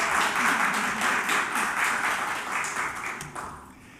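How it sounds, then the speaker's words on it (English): An audience at an Arkansas women's commission press conference applauds commissioners, a dense steady patter of clapping that holds, then thins and fades toward the end. "give these commissioners a round of applause for their service and work"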